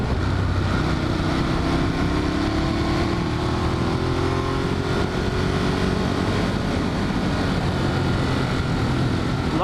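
A Ducati Monster 1200 motorcycle is ridden hard, its engine droning loudly and steadily with a rising, sustained tone as it pulls through the revs, heavy wind and road roar running underneath the whole stretch.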